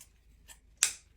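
Scissors cutting ribbon for a large mailbox bow: two faint snips followed by one sharp, crisp close cut, then quiet.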